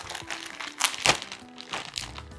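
A plastic bag is crinkled while a backpack is unpacked from it, giving a few sharp, close crackles and rustles in quick irregular bursts against a quiet room.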